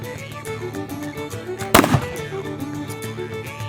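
A single sharp shot from a Long Land Pattern Brown Bess flintlock musket, fired outdoors at a can, with a sudden loud blast and a short fading boom over steady background noise.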